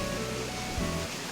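A waterfall water feature in Animal Crossing New Horizons, on a winter forest island, gives a brief, steady rushing wash of falling water at even loudness.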